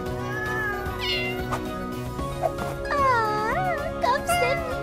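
A cartoon cat gives a series of high, wavering meows, some of them drawn out, over a light tinkling jingle and soft background music in an animated children's scene.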